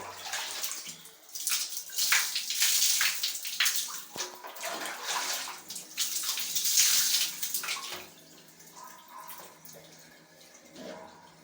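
Water pours and splashes continuously over a head during a hair wash, a close, full rushing stream that eases off toward the end, with no talking.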